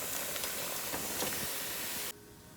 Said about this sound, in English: I just use like the frozen cauliflower rice, and I'm gonna go ahead and put it in the pan.